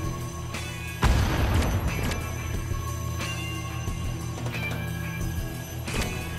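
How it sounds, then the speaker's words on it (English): Rockets explode against a harvester in the Earthbreakers game, giving a heavy crash followed by scattered impacts and booms over a steady mechanical battle din. "This harvester is hurting! How is this guy not out of rockets?"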